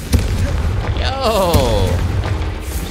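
The Confringo fire spell blasting in the video game Hogwarts Legacy, a booming burst with a whooshing, wavering tail, loud and close; a man briefly exclaims over it.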